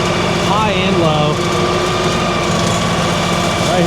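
A tractor engine runs steadily with a Lane Shark trail clearing tool attached, a loud, continuous mechanical drone with shifting whining tones over a low rumble.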